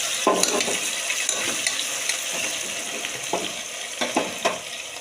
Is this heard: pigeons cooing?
no